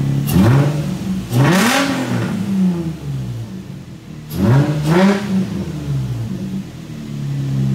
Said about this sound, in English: My VQ starts and runs great. Our steering works. It sounds amazing.